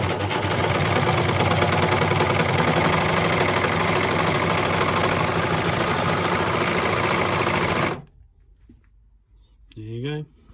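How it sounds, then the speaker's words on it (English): A Baby Lock Lucie overlocker sews at full speed, a dense, loud, steady mechanical whir for about eight seconds that then stops abruptly, leaving near quiet before a voice speaks. "So we're going to just whiz through the first sewing."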